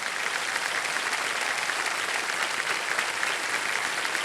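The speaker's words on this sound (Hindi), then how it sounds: "तो एक बार फिर जोरदार तालियां बज जाए" A studio audience on a television quiz show claps in a steady, even burst, dense and continuous throughout with no talking over it.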